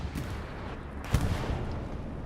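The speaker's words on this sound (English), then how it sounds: "Bombing run coming in though." Bombing-run explosions in Hell Let Loose, a faint distant rumble of blasts with one heavier low thump standing out midway, set against a steady wash of battlefield noise.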